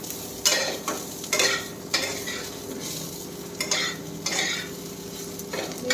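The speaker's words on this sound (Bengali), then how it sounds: "এই দেখো উচ্ছে আলু ভাজা হচ্ছে" Bitter gourd and potatoes frying in a pan, with steady sizzling and repeated bursts of stirring scrapes every second or so, close and fairly loud, with no talking.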